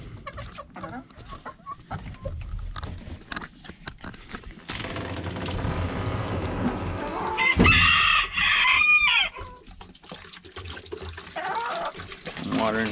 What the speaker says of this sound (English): Watering the chickens here.